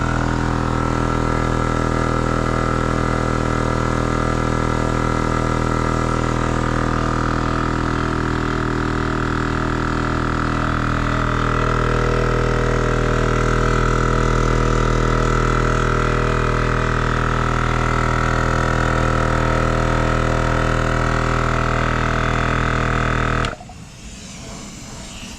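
Gobege portable air compressor inflating a tire at a drag strip, a steady loud motor drone with a rapid pumping rattle running continuously before cutting off near the end.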